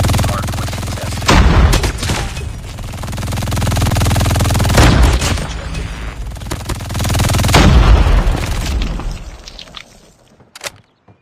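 MG42 machine gun bursts in the Call of Duty Mobile video game, loud sustained rapid fire with booming impacts over a Hardpoint match, pausing briefly and tailing off near the end.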